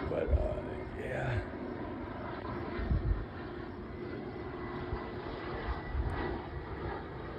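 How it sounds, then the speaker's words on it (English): An airplane on the flight path near Pellston Airport passes overhead, giving a continuous rumbling engine drone that holds fairly steady, with a few louder low thumps. "We are lucky enough to live near the flight path for Pellston Airport, PLN. So we get to see the planes quite often"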